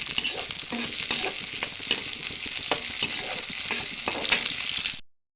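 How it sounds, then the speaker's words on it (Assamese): Chopped onions fry in hot oil with cumin seeds in a pan, a steady close sizzle broken by repeated scraping stirs, then cut off abruptly. "পিঁয়াজখিনি কেঁচা গোন্ধ যোৱালৈ ভাজি লৈছোঁ"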